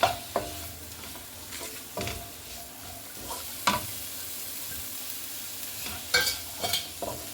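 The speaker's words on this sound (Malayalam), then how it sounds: "ഒരു രണ്ട് ക്യാപ്സിക്കം ഇടാൻ പോവാണ് അതിലേക്ക്" Chopped capsicum stir-fried in a pan while cooking kuzhimandi: a continuous sizzle broken by repeated scraping and tossing strokes of a spatula at an irregular rhythm, close and moderately loud, with no voices.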